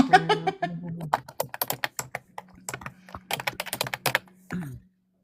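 Rapid, loud clattering of computer keyboard keys in irregular bursts, with a voice speaking briefly at the start and again near the end.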